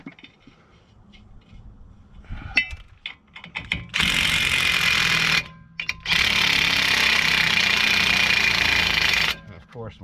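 Impact gun on a front brake job on a 2014–2020 tenth-generation Honda Civic, two long loud continuous bursts of buzzing hammering, close up, preceded by clanks and handling of tools and parts.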